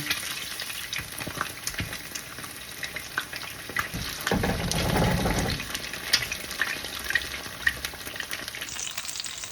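Large eggs sizzle in a hot pan with Vietnamese fried rice cake, a steady crackling fry with scattered pops and a louder hiss swelling midway as they hit the oil.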